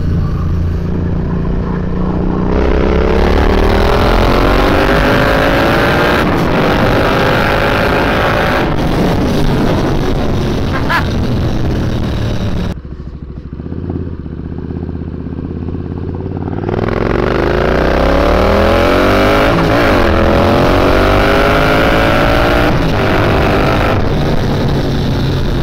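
A boosted Triumph Bobber motorcycle accelerates hard through the gears, its engine note climbing in pitch, dropping briefly at a shift, then climbing again, loud and close throughout.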